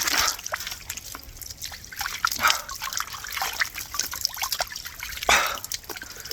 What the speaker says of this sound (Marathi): पहिले एकदम थंड थंड पाण्याने तोंड धुवून घेतो